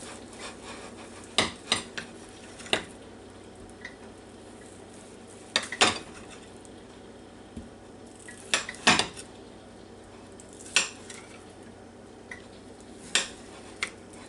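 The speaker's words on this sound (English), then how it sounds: "start cutting up this steak here and getting it ready" Knife cutting leftover steak into small pieces, a series of irregular sharp clicks and taps of the blade on a plate or board, some clustered in pairs, close-up over a quiet background.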